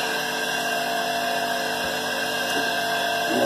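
An electric jigsaw motor whines steadily and loudly with a sustained high-pitched tone and humming overtones, rising slightly near the end, with no talking.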